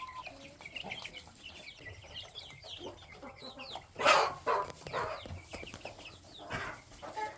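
Hens cluck and murmur in a henhouse, with scattered soft calls and one louder squawk midway, all fairly faint and close.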